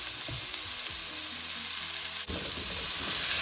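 Shrimp and chicken breast sauté in a hot pan for chopsuey, giving a steady loud sizzle with stirring clatter throughout.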